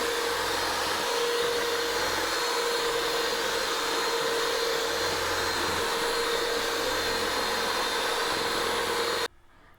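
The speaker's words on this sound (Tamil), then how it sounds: "சீனி கரையும் வரைக்கும் அடிக்கணும். இது ஒரு 10 நிமிஷம் இதை அடிக்கணும்." An electric beater whisks egg whites and sugar for a pineapple cake, a loud steady motor whir with a constant high hum running unbroken for about nine seconds before cutting off abruptly.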